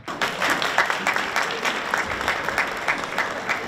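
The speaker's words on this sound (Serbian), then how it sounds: "hajde da i njih pozdravimo jednim velikim aplauzom" An audience applauds steadily for a folk dance group at the slava celebration of the folklore group Šumadija in Kitchener, with dense, even clapping throughout and a faint crowd murmur.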